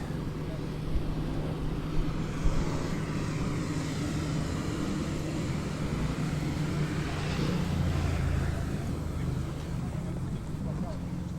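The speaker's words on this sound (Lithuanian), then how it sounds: "Jau ir Harley atvažiavo, ir kiti motociklai." Harley-Davidson and other motorcycles arriving at a riders' gathering: a continuous low engine rumble swelling and fading as machines roll in, mid-distance, with people talking throughout.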